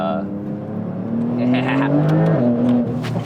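A 1000-horsepower Porsche 911 Turbo S accelerates hard, its engine note climbing and whirring loudly from inside the car, with a brief gear change and speech underneath.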